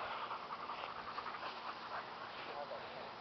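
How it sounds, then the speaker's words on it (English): A pitbull-type dog holding a tennis ball pants to catch its breath, a faint, quick, steady rhythm of breathy huffs in the background. "This dog here, just getting his breath."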